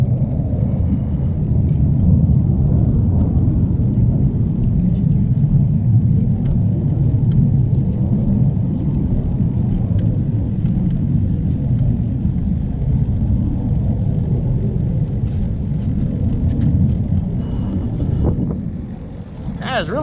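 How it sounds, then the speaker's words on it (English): Jet airplanes flying in to land pass overhead as a broad, continuous low roar that stays steady and fairly loud for the whole stretch, with some faint outdoor noise. "they're going in for a landing. Got some jets up in the air."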